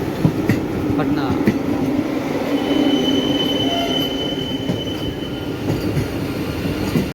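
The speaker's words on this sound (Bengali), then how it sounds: "এখানে আমাদের ট্রেন 10 মিনিট আগে ঢুকে দিয়েছে" The 12338 Shantiniketan Express arriving at Howrah station, with a continuous loud rumble of wheels and carriages, a long high squeal of braking wheels and a background crowd murmur.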